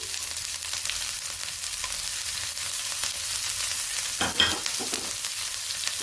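Garlic, cumin seeds and green chili crackle in hot oil for a tempering, a close, continuous sizzle with light stirring and a brief louder spatter partway through, no voices.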